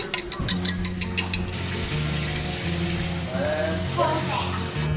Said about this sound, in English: cornstarch and water going in